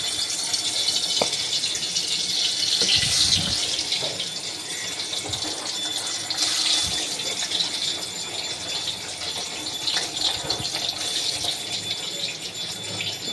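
Large pieces of paneer go one by one into hot oil and fry with a steady, bright hiss, joined by scattered small clatters and clinks, close and fairly loud.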